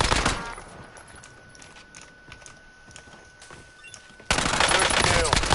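Rapid bursts of automatic gunfire ring out in a Call of Duty Warzone match, loud and close, with a quieter stretch of scattered shots and footsteps before a dense, heavy volley returns at the end.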